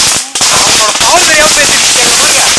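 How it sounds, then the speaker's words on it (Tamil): A thousand-wala firecracker string bursts in a loud, dense, rapid crackle of pops close by, running almost without a break after a brief gap, while people talk over it. "ஆயிரம் வாழா கொளுத்திட்டோம்ல ஆயிரம் வாழா ஆயிரம் வாழாங்க பாருங்க"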